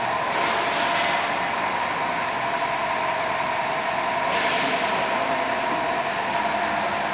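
A self-propelled electric belt conveyor runs with a loud, continuous rumbling mechanical roar as it moves forward, stops and reverses, the whine shifting slightly at each change of direction.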